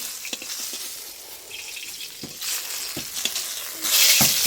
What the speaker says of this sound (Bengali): আর একটুখানি বেগুন ভাজবে কত তেল দিয়েছে কোড়ায়